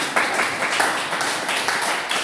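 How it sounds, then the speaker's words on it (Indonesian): Short burst of clapping from a small audience in a classroom teaching session, with quick rhythmic claps over about two seconds. "terima kasih tepuk tangan"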